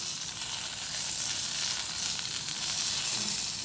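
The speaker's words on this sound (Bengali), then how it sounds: "আমার বেগুন ভাজা হয়ে গেছে।" Eggplant slices coated in gram flour and chili powder fry in oil with a constant close sizzle, a steady bubbling hiss with no pauses or talk.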